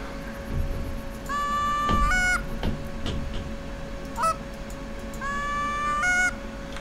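Geese honk repeatedly in the hunting game The Hunter: Call of the Wild, with three clear bursts of several calls each over a steady low hum of outdoor ambience.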